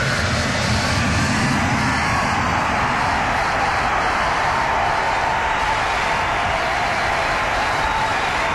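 A Boeing 747 jet airliner's engines at takeoff, a loud, steady, broadband roar that holds without letup, with no voices over it.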